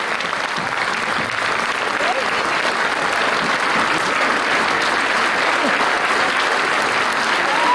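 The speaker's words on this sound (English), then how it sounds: "Please give them a big clap. Loud, long clap." A hall full of people applauds a school musical of The Sound of Music at Father Agnel School, Noida, with dense, continuous clapping that holds at an even level for several seconds.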